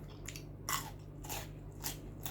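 Fresh cucumber is bitten and chewed with grilled mackerel chili paste. Several crisp, wet crunches come close to the mic in an uneven rhythm, with no talking.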